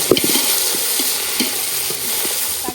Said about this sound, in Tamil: இஞ்சி பூண்டு பேஸ்ட் வதங்கினோடனே தக்காளி சேர்த்துக்கிறேன்.